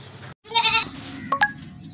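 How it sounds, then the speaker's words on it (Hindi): A goat for sale at a Pakistani livestock market, four-toothed and in heat, lets out a loud, close wavering bleat followed by a shorter cry, with no talk over it. "मेरे पास ये एक बकरी है बेचने की।"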